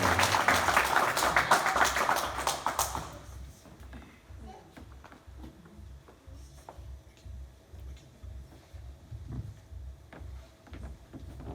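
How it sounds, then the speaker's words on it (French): A church congregation applauding Brother David during a French-language worship service: dense clapping for about three seconds, then dropping quickly to quiet room sound with a few faint knocks. "Je vous êtes prié d'applaudir le frère David"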